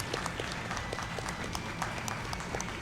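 Faint, scattered clapping from an audience at a speedrun marathon event continues steadily, soft and distant.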